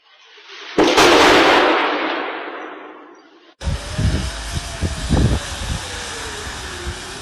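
Iranian missiles striking in Israel: a huge, loud explosion with a long decaying roar, followed by a rising and falling air-raid siren and a string of further booming blasts and bangs.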